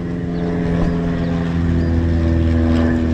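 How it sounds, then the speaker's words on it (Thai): Airplane passing overhead while a car sits parked for a vehicle inspection, a loud, steady engine drone with a constant hum that holds through the whole stretch and no talking. "วิ่งเครื่องบินเครื่องบินเครื่องบินนู่น"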